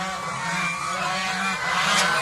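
Several geese honk together in a continuous noisy chorus, fairly close, with overlapping calls and no speech.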